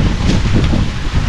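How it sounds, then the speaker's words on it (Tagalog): Strong outdoor wind buffets the microphone in a continuous loud rumble and roar, steady throughout with no voices. "Mahangin kasi guys sa labas."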